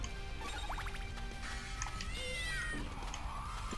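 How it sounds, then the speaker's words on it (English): Maria's attack kitten from Castlevania: The Dracula X Chronicles meowing in a few quick, bright rising cries over steady game music and effects, ending with a louder burst at the close. "Go, my attack kitten!"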